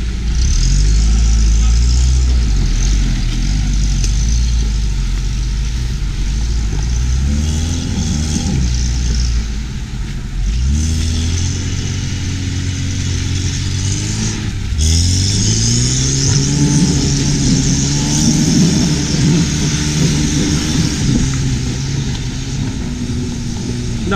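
A Lada Niva drives past off-road, its engine rising and falling as it revs through a steady, loud pass with shifting pitch.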